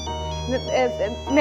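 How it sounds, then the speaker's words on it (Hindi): A mobile phone ringtone plays as a steady, repeating electronic melody in a home, continuing under a voice talking over it. "हारिस, फोन उठाओ"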